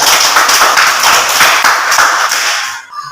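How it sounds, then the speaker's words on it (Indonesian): Hands clapping at home during an online religion lesson for children, a loud, close patter of several people clapping in quick irregular bursts that stops abruptly near the end. "Tepuk tangan di rumah."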